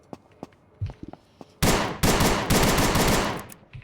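A Ruger-like gun firing in the video game Aneurism IV, loud and close: after a few faint clicks, a sustained rapid burst of shots rings out, briefly pauses, then continues before tailing off.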